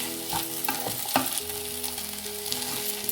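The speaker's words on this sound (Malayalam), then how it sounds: "നന്നായിട്ടൊന്ന് ഇളക്കി കൊടുക്കാം. കൊഞ്ചും മസാലയും എല്ലാം കൂടെ ഒന്ന് പിടിക്കട്ടെ." Prawns and masala fry in a pan, giving a continuous close sizzle, while a spoon stirs and scrapes through them in a few distinct knocks and scrapes.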